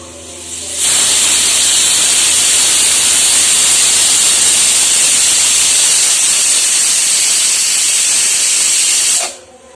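Beef simmering in a pot on a gas stove gives off a steady, loud steamy hiss that holds evenly for several seconds before cutting off.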